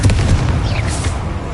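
Confringo, a fire spell in the Hogwarts Legacy video game, lands as a heavy low blast that hits hard at once and then rumbles on briefly.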